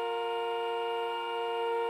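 A car horn held in one long continuous honk at a traffic light, loud and steady, with no pauses and no voices.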